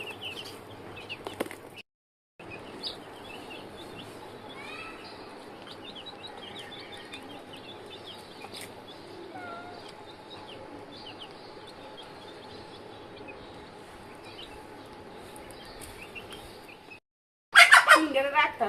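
Chickens cluck and call intermittently in a backyard coop setting, steady faint calls running through most of the stretch, with people talking nearby.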